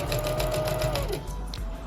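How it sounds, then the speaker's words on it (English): A sewing machine restitches a lace frontal onto a factory-made wig, its needle chattering in a fast, even run that slows and pauses briefly before resuming, close and clear with no talk. "now I'm going to go on the sewing machine, and now I'm just going to restitch"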